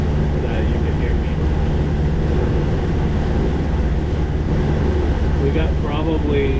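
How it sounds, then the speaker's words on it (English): A boat engine drones steadily and loudly throughout, a low continuous rumble with a voice speaking briefly over it near the end. "We got probably a 20-minute boat ride at this pace."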